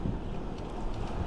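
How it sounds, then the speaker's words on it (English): Wind buffets a microphone outdoors during a ride near Lake Elsinore, a steady close rumbling roar filling the short moment with no clear voices. "it's getting a little windy, boys. Hopefully the audio isn't crazy"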